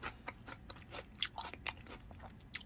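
Close, soft crunching bites and chewing of cooked needlefish, steady irregular mouth sounds with no talk.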